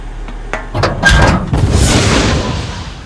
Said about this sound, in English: El cañón abre fuego y Vulcan Raven se mofa desde lo alto del tanque